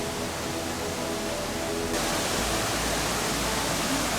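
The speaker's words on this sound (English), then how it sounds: "It's more a cascade than a waterfall." A waterfall cascade in Mexico's Yucatan pours as a dense, steady roar of rushing water that swells slightly louder partway through and continues unbroken.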